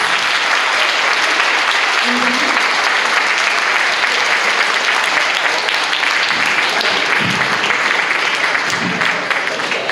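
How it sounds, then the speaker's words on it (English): Dense audience applause for a panel of senatorial candidates, a steady wash of many hands clapping throughout, loud and close, with faint voices now and then underneath. "A round of applause for our Senatorial Stallions."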